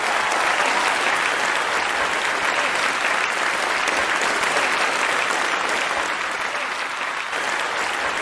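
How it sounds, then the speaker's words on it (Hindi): Audience applause welcoming a guest at a Hindi talk-show event, a dense, steady clapping from a sizeable crowd that holds evenly loud for the whole stretch with no voices over it. "तो चलिए जोरदार तालियों से स्वागत कीजिए डॉक्टर राम अवतार शर्मा का।"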